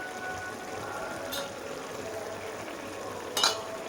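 Ridge gourd cooked with poppy seed paste is stirred with a spatula in a pan, giving a soft continuous wet sizzle with two brief scraping strokes against the metal.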